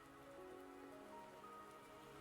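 Steady rain pouring in Wuthering Waves, a soft even hiss of drops on surfaces with faint tonal ambience beneath, continuous and fairly quiet with no voices.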